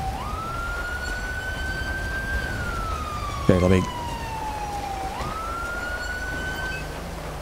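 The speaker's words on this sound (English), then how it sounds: "I did not mean to have my siren blaring like that" A police siren in Grand Theft Auto V wails steadily, sweeping up and down in pitch throughout, with a brief thump in the middle and a voice speaking briefly.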